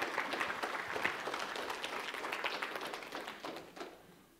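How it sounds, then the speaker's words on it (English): A church congregation claps hands at a Sunday morning service, a dense, moderately distant round of applause that holds steady and then tapers off toward the end. "Give him a hand clap."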